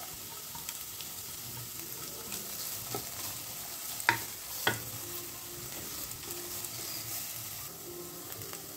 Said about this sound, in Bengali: দু 3 মিনিট ফ্রাই করব আমরা মিডিয়াম ফ্লেমে। এবার পেঁয়াজ কুচি দিয়ে দিলাম।